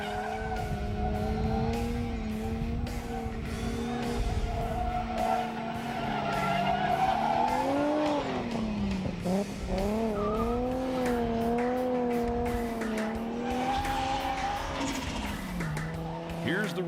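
Car cornering hard on a skid pad, tires squealing in a long wavering howl that rises and falls over a steady engine note, loud and close, with some talking mixed in.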